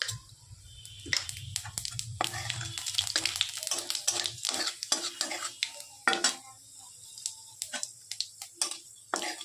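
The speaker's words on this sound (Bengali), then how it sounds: "কড়াইয়ে তেল গরম হয়ে গেছে, দিয়ে দেব পাঁচফোড়ন" Panch phoron spices hit hot oil in a wok with a bright sizzle, joined by clinks and scrapes of a utensil against the pan in an irregular rhythm, close and fairly loud.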